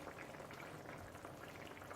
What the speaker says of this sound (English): calm down the roughness of the boil, but it's still boiling